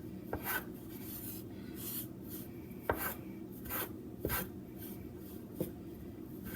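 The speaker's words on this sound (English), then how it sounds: "And I'm just kind of slicing it up." A knife cuts pizza dough into small one-inch pieces on a board, giving soft scraping strokes with a few light taps, repeated at an uneven pace, close and quiet.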